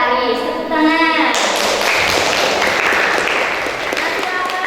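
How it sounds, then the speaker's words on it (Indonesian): A classroom of students breaks into brisk, close clapping that carries steadily to the end, after a short spoken phrase from an adult voice. "Tepuk tangan"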